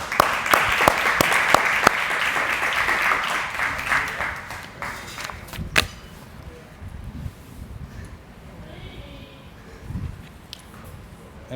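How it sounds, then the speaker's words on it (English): An audience at a hall of fame ceremony claps loudly and densely at first, then the applause thins out and fades over several seconds, leaving scattered claps and low room noise. "So let's give a round of applause to Coach James Bixby."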